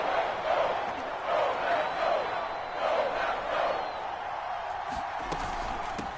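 Stadium crowd roar from a PS4 American football video game, a steady broad wash of many voices that swells in waves and then holds at a lower murmur, with a few faint thumps near the end.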